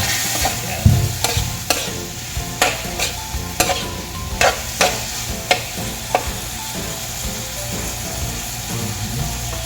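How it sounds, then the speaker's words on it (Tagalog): Tomato with black pepper sautés in a pan, a steady sizzle broken by repeated sharp scrapes and clicks of a stirring spoon, close and fairly loud throughout. "igisa lang ulit natin hanggang maluto yung ating tomato"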